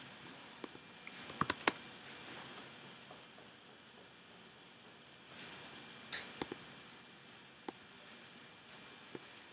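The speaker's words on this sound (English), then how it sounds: "Let's type this." Sparse clicks of fingers typing on a computer keyboard, quiet and close, with scattered keystrokes and a brief flurry early on over a soft background hiss.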